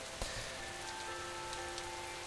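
Rain falls steadily on surfaces in a video game town, a constant close hiss with a few scattered sharper drips and no talking.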